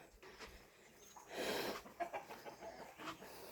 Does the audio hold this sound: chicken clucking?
yes